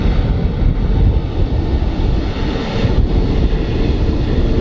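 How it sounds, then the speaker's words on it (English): An EasyJet Airbus A320neo airliner arriving at Manchester Airport, heard as a loud, steady broadband jet engine roar that fills the whole few seconds with no speech. "An EasyJet A320"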